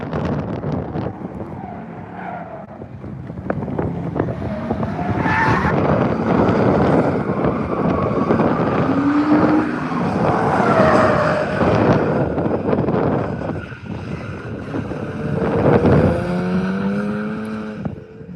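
A Mazda MX-5 drifts at an event, its engine droning and revving loudly and steadily throughout, with tire squeal, skid noise and wind buffeting over the continuous car sound.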